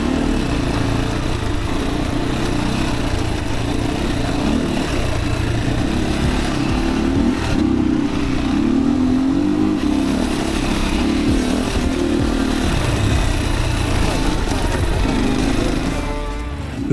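Yamaha WR155R and Honda Crossfire dirt bike engines drone loudly and steadily on a jungle trail ride in Nepal. The engines rise and fall as the throttle changes, and no one talks.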